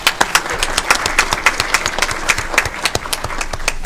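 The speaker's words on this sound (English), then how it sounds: "Let's give her a round of applause." Applause fills a school board meeting in Federal Way, a dense run of sharp, overlapping hand claps from a roomful of people, steady and fairly close for about four seconds with no talking.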